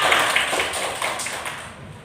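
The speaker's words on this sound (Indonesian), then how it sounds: "tepuk tangan untuk kita semua" Clapping from a group of teachers at a school positive-culture session, a soft, fairly close patter of hands that fades out over two seconds.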